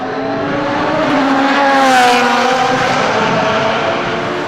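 GT race cars at the Assen circuit, one drifting through the chicane, roar past in a loud sustained engine note that swells toward the middle and fades slightly, with a brief tire squeal and no talk.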